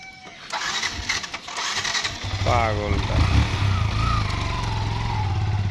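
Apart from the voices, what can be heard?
motorcycle engine starting and idling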